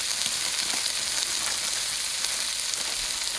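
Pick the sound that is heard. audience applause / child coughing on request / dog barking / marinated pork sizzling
marinated pork sizzling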